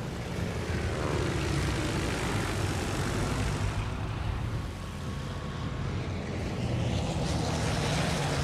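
Propeller aircraft engines in the naval battle game World of Warships: Legends drone loudly and steadily for several seconds, with a faint wash of sea waves beneath.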